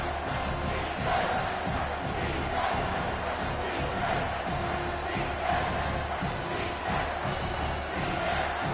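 A home crowd roars at a college football game as the defense faces third down, a dense, continuous wall of cheering and yelling that stays loud and steady throughout.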